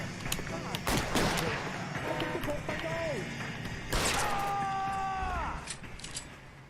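Gunfire in the L.A. Noire detective game, a run of sharp shots and crashing impacts mixed with game sound, close and fairly loud, with tonal effects between the bursts.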